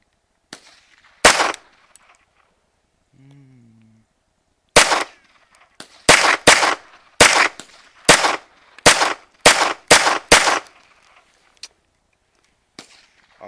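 Gunshots fired one after another, sharp loud cracks, first a couple spaced apart, then a quicker string of about nine shots with short gaps, over otherwise quiet air.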